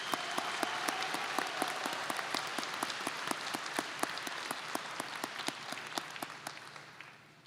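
Applause from the audience at a nursing and health professions commencement ceremony for the dedicated students is heard at a moderate distance. It holds steady, with crisp individual claps audible throughout, then tapers slightly at the end.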